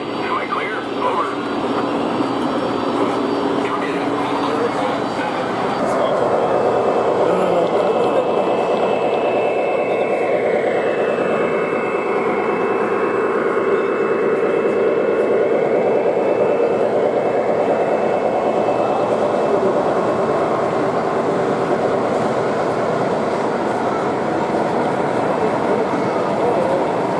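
An O gauge model train rolls steadily around a layout at a model railroading event, with a continuous rumbling drone and a rising-then-falling whine as it passes, under a busy crowd.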